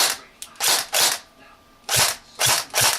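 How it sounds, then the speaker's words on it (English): A G&G airsoft AK-47 with a home-built mosfet fires five or six short, sharp bursts of whirring and grinding from its gearbox at close range, with brief gaps between them. "I took the AK apart because the mech box made the whir grind sound"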